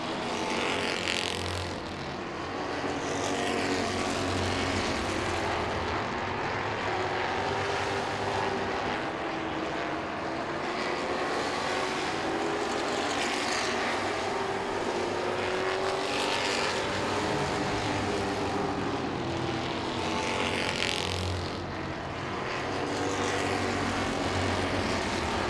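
Race cars in a 75-lap Super Street Showdown at Langley Speedway roar past in a continuous loud engine drone, with swelling passes as the field circles the track.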